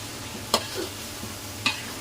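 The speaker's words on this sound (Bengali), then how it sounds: "এখন এই যে নেড়ে চেড়ে নামাই ফেলবো" Shrimp and kohi being stirred as they fry in a pan: two quick, close scrapes of the spoon stand out over a soft, steady sizzle.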